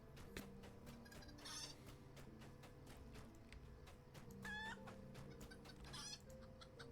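Chickens cluck softly in the background of the Lord of the Rings Online game world, several brief, scattered clucks and calls over a low, steady ambient hum.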